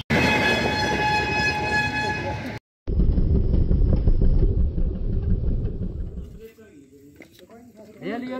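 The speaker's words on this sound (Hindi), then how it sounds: "फिलहाल तो फाटक बंद हो रही है, ट्रेन आओगी फिर उसके बाद आप निकलेंगे यहाँ से।" A train rolls past a closed railway level crossing with a loud continuous rattle of wheels and cars, preceded by a blaring horn, and fades as a voice speaks near the end.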